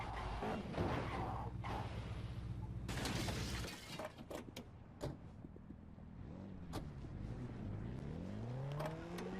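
In a video game, a crash with shattering glass comes first, then the game's most expensive car accelerates, its engine note climbing steeply in rising sweeps. The sounds are loud and close, and no one talks.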